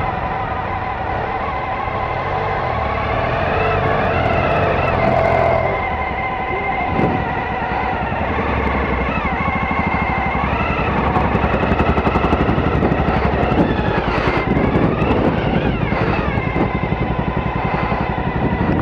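A BMW motorcycle engine on a 2018 off-road riding course runs steadily as the bike descends a slope under engine braking, a loud, close drone with shifting revs and brief rough pulses.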